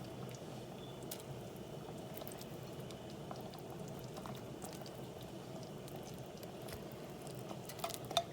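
Fish curry gravy simmering in a pan, a steady low bubbling with soft pops and patter, faint and continuous, with a light clink near the end and no talking.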